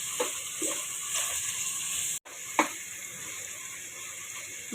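Masala and softened tomatoes frying in a pot for chicken roast pulao, a steady close sizzle with a few stirring knocks and one brief cut-off midway, no speech.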